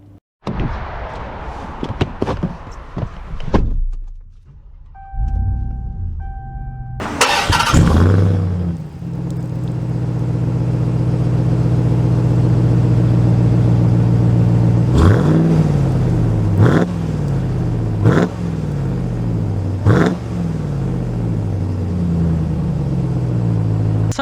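A 2022 Ram 1500 TRX pickup is started with a sharp crank and roar, then drives off with a deep, loud engine rumble that rises and falls through several gear changes.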